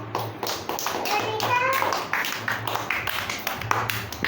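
A child claps hands in a short run of taps at a children's English introduction lesson, with a voice and other voices talking around and over the claps.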